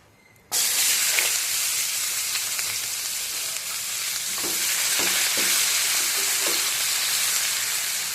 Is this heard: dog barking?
no